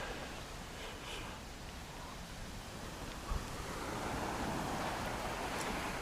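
Ocean surf rolling onto Escondido Beach in Malibu, a steady wash of breaking waves with wind rumble on the microphone, continuous and fairly close, with no talking.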